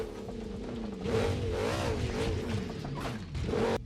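A $2 million hypercar driven at full throttle over bumps, its engine note rising and dipping steadily and loud up close, with jolts and surges as it crosses the uneven surface.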